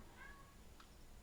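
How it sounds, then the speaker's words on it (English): A pet cat gives a short, faint meow indoors in a quiet room, one brief call rising over low background hiss. "If you can hear my cat"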